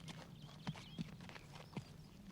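Horse hooves clip-clop a few times at walking pace, three separate soft thuds against a quiet outdoor background, fairly faint and with no one speaking.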